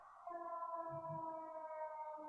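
An ambulance siren wails steadily, its tones holding with slight pitch shifts, loud and fairly close, with no talking over it.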